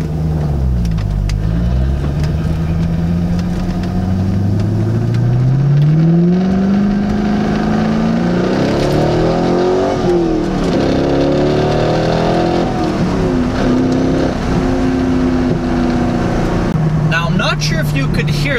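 A C5 Corvette pulls onto a road and accelerates, its engine note climbing steadily in pitch through a sustained run while a loose shifter rattles inside the cabin, with voices talking over it at times.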